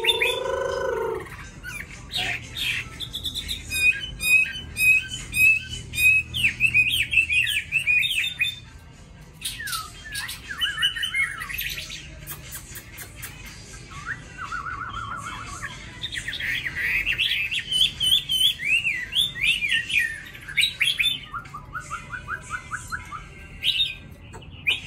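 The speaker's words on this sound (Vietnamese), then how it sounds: "mỗi lần mình gọi một cái là con chim nó sẽ theo" Pet songbird kept at home, calling in response with a busy mix of bright chirps, trills and squawks. The calls come in bursts across a long stretch, close and fairly loud, with short pauses between them.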